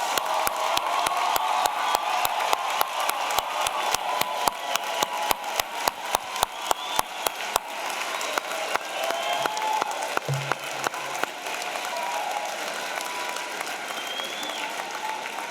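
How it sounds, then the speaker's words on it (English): Graduation audience at a law school commencement applauding the new 2025 graduates: sustained crowd clapping with scattered sharp claps and faint whoops, a voice briefly heard midway as the ovation continues. "Let's give our new 2025 graduates another round of applause"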